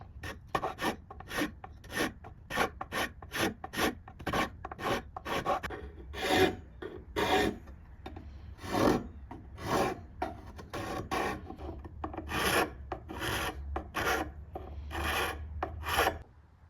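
A hand file rasps back and forth across the handle of a forged chef's knife in a long run of steady, evenly spaced strokes, close and fairly loud, with no talking.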